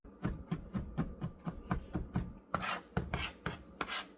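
A knife cuts garlic on a cutting board set on top of an oven over a kitchen towel, giving quick, evenly spaced taps that turn into a few louder, sharper chops.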